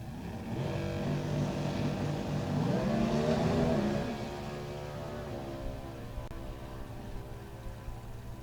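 A comp eliminator drag race car launches with a loud engine roar, rising and wavering as the tires rattle, then the engine shuts off and the sound drops to a lower fading drone.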